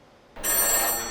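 A 1950s telephone rings at the Connections Museum in Seattle, its bell starting abruptly after a quiet moment and then sustaining a loud, bright, continuous ring up close.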